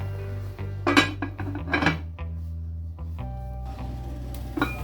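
A lid goes onto a pot of aubergine-leaf sauce on the stove, with a few metallic clinks and rattles as it is handled and set in place, over a low steady hum.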